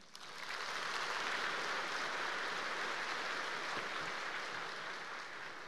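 A congregation at the 48th KAICAM pastor ordination ceremony applauds steadily as visiting senior pastors bow in greeting, a dense, sustained wash of clapping that holds at even loudness for several seconds with no talk over it.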